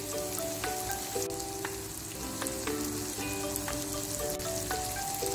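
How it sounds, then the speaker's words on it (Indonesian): Small dried anchovies (ikan teri) fry over a low flame in a pan, giving a steady crackling sizzle with repeated stirring scrapes throughout, close and fairly loud, with no voices. "Ini ikan terinya kita goreng."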